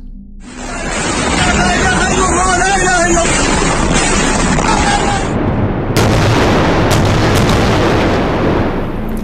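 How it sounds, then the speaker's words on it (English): Israeli missiles exploding over Gaza at night: a continuous, loud broadband roar and rumble of blasts with crackling noise, with a sharper, brighter burst about two-thirds through. "You are looking at Israeli missiles exploding in Gaza overnight."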